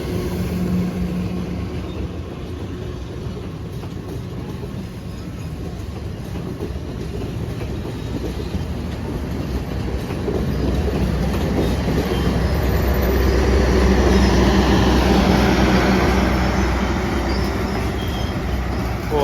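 A Harina train running late from Garut to Pasar Senen rolls into Bandung station, a steady low rumble of wheels and carriages that swells gradually, with no voices over it.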